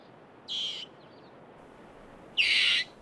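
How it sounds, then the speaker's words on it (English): Two shrill squeaks from an African rock hyrax, raising the alarm at an eagle overhead; a short cry is followed by a louder, longer one about two seconds later over a steady outdoor hiss. "A loud squeak alerts the group to an eagle soaring above"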